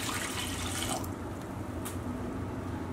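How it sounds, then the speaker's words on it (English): Water pours into a pot of yellow split peas, a soft rushing splash that fades after about a second, leaving a quiet, low background. "I'm going to top this up with 2 cups of water."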